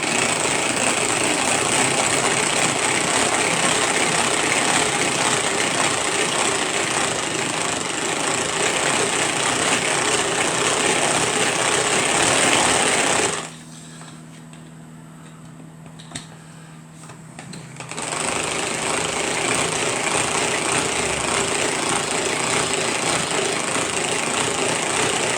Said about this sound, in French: Et maintenant, on va mélanger, je crois. Oui. Hop. Vitesse 1.